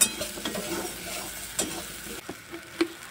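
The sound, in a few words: soybean chunks frying in oil with turmeric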